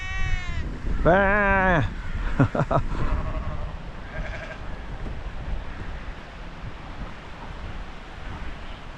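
A sheep bleats loudly a couple of times, wavering cries close by, over steady wind and surf, followed by a few fainter bleats in the distance.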